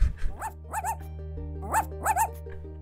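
A small dog barks in the Tell Me Your Story demo game, several short high yips in two quick bursts, close and clear over a low steady hum.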